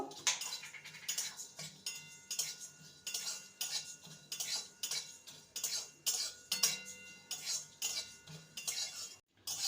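A metal spoon clinks and scrapes against a pan while chopped dried chillies are stirred, a quiet run of regular tapping strokes with no talk.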